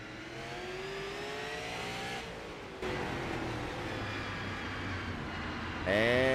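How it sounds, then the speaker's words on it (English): Super late model race cars at Nashville, engines revving and throttle rising and falling as they slice through the field, a loud continuous roar with pitch sweeps and a surge near the end. "I'm going to lay out and let y'all listen to the throttle play"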